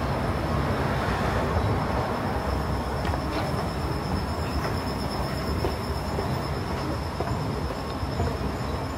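A Seoul subway train rumbles loudly and steadily throughout, with a faint high whine from the wheels and no talking.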